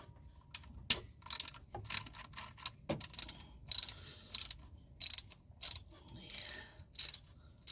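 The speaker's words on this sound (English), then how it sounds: "Using an extension to taking out the bolts, you're probably gonna need that." Short ratcheting bursts come up close as a ratchet on an extension loosens power steering pump bolts. The rapid clicking clusters repeat in an uneven rhythm between quiet pauses, with no talking.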